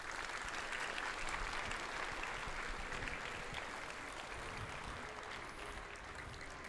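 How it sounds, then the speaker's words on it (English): Applause from an audience at a school Veterans Day ceremony, a steady wash of clapping from many hands that carries on throughout and fades slightly toward the end. "George I. Mims, United States Air Force, let's give him a round of applause"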